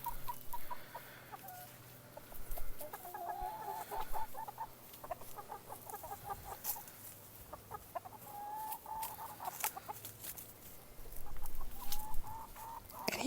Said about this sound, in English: That's my big old rooster Roy, strutting his stuff right there.